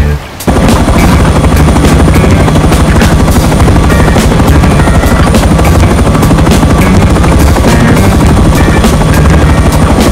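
Helicopter in the video game Rust, a loud steady rotor thump with whining engine hum running continuously close up, with no speech over it.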